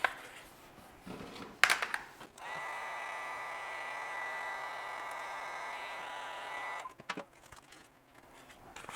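Steady electric heat gun blowing for several seconds as it shrinks heat-shrink tubing over wire connectors during a Surron ASI BAC4000/BAC8000 controller install, a broad even whoosh with handling knocks before and after.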